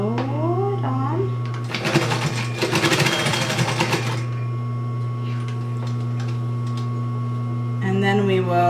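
A sewing machine briefly stitches tabs onto a clutch wallet, a short rapid burst of a couple of seconds over a steady background hum, with a voice heard before and after.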